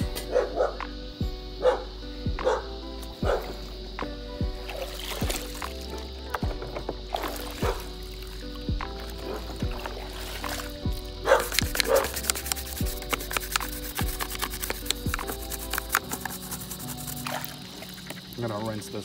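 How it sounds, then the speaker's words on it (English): A dog barks repeatedly at a neighbor, a steady series of sharp, fairly close barks running through the whole stretch over splashing and pouring water. "Dog's going crazy at the neighbor."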